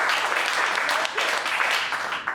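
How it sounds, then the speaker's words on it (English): An indoor audience at a political talk applauds steadily, a dense wash of clapping at moderate distance throughout, with a voice faintly under it. "go ahead and applaud"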